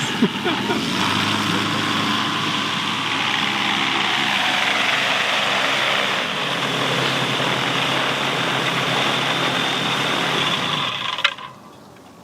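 Aircraft engine running steadily at high RPM during a propeller pull test comparing an E-Prop and a Prince propeller, a loud continuous drone with a slight drop in tone midway before cutting off near the end.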